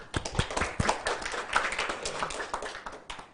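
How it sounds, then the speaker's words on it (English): Applause from a conference audience at a live academic event, scattered claps forming an uneven patter that holds steady at moderate loudness and starts to thin toward the end. "Ladies and gentlemen, we give applause on this incredible momentum."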